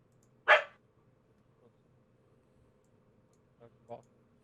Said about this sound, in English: I think your dog has objected there